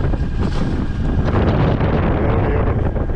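Strong wind of 26 knots roars over a sailboat on the Aegean Sea during a meltemi, a loud, steady rush buffeting the microphone with water noise beneath it and no speech.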